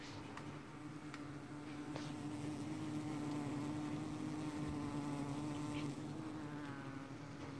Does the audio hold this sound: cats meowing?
no